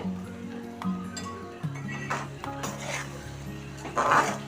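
A spoon stirs ginger pickle with mustard-fenugreek powder in a kadai, making soft scraping and occasional metallic clinks against the pan, fairly quiet and close.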